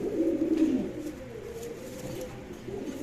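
Domestic pigeons coo close by in a pen, a low murmuring stream of rolling calls that swells early and then settles into a steady, softer cooing.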